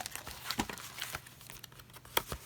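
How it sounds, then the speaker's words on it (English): Paper is trimmed along the edge of a travel journal page: soft crinkling and slicing rustles with a few sharper snips, close and quiet with no voices. "I'm going to trim that edge down"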